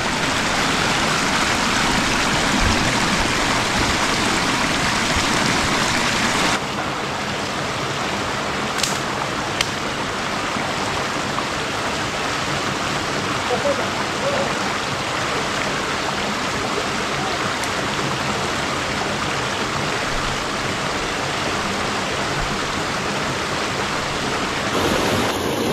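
Tat Lap waterfall and its flowing stream in Sakon Nakhon, Thailand, a constant broad rush of falling and running water that stays loud and steady, with a few faint clicks partway through.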